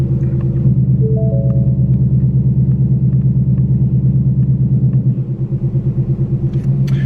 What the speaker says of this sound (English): The car sounds absolutely phenomenal with just the X-Pipe.